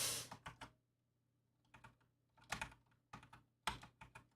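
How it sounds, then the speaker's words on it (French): Bursts of clicky keystrokes on a QWERTY computer keyboard, close and quiet, arriving in short clustered runs separated by pauses with no one speaking. "j'ai un clavier QWERTY et du coup je cherche un peu mes touches"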